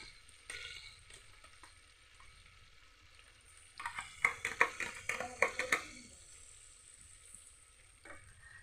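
Butter melts in a hot pan with a faint steady sizzle, then a burst of quick stirring scrapes and clinks for a couple of seconds before the sizzle settles again.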